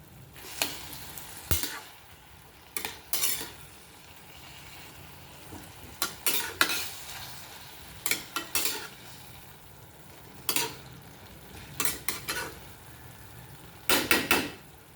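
Tomato bharit being sautéed in a pan over a medium gas flame, a low sizzle with repeated bursts of spatula scraping and stirring clatter at irregular intervals, close by, with no talking.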